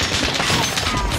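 Call of Duty: Warzone gunfire rattles as a dense, continuous volley of loud shots packed tightly together over about a second.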